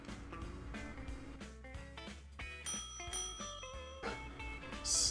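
Bright bell rings sound in a cartoonish restaurant cooking game, a rapid series of clear metallic dings layered over busy game music and effects, ending in a louder shrill ring.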